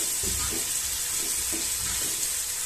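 Silkworm pupae frying in a pan make a steady, close sizzle with soft bubbling and occasional light stirring, continuous throughout with no voices.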